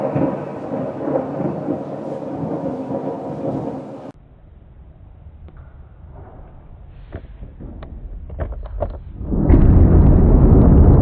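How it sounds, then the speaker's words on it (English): Heavy rain roars, then drops away to a quieter patter with scattered cracks before a loud crash of thunder rumbles in at the end. "I heard that lightning as well."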